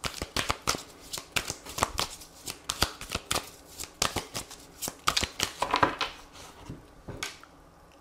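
Oracle cards are shuffled for a reading in a quick run of crisp riffling flicks and soft slaps, close and fairly quiet, with brief pauses between bursts.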